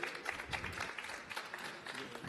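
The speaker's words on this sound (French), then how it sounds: "sous vos applaudissements, s'il vous plaît" Applause from an audience at a French public evening event on risk prevention as a guest is welcomed on stage; a quiet, steady patter of many hands clapping at some distance, with a murmur of voices mixed in.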